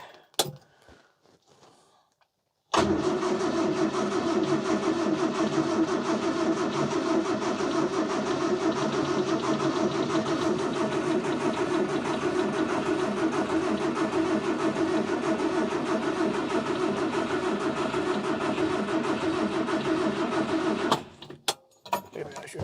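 A 1968 Morris engine cranks on choke after a quiet start, then catches and settles into a loud, steady running idle that continues for nearly twenty seconds before cutting off.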